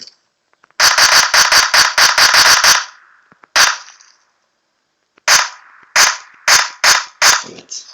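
Rapid bursts of sharp video game gunshots, a quick string of about eight, then a few more spaced single shots after a pause, loud and close.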